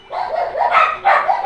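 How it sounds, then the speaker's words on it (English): Dogs bark in a rapid series of loud, close yips and barks, several overlapping bursts without any talk. "The dogs are barking so loud, and I still can't see anything."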